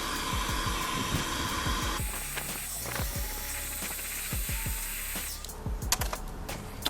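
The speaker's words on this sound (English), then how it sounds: "And then we just take the heat gun and just kind of keep it moving and go over it." A heat gun blows a steady, loud hiss of hot air while shrinking heat-shrink tubing over speaker wire, with the airflow shifting in tone partway through and soft clicks and handling taps underneath.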